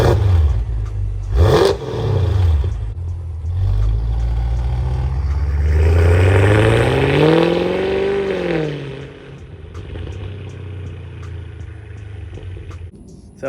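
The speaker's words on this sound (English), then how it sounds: "So I'll add a clip right here of what the exhaust sounded like before." A stock Audi S6 exhaust before modification: the engine idles with a low rumble, briefly blips, then revs up in a rising and falling sweep before settling back to idle, loud and close.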